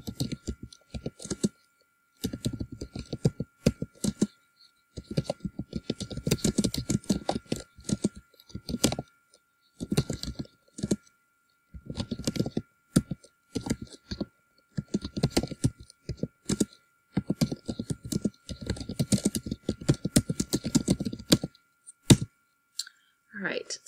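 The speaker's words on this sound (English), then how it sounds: "apologize for my typing there" Bursts of clicky typing on a computer keyboard, uneven and hesitant, with pauses between runs of keystrokes, close and moderately loud, set on a desk crowded with other items.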